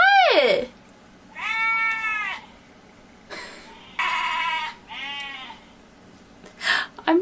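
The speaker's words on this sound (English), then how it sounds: "I'm sorry about this interference of sheep barring." Sheep bleat loudly nearby in several separate, wavering calls with short silent gaps between them, heard alone without talk.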